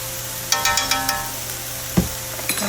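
Garlic and ginger are stirred in a frying pan, with a faint sizzle under a handful of scraping, clinking stirs and one dull knock.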